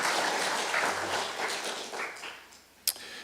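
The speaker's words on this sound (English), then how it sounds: "That's worth applauding, right?" A church congregation applauds during a Sunday sermon, with sustained soft clapping that thins out and ends in a single sharp tap or knock.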